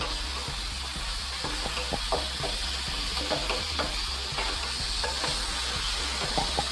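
Chicken pieces for a spicy gravy fry sizzle and crackle steadily in hot oil, a dense continuous frying hiss with frequent small pops and stirring scrapes, close and even throughout with no voices.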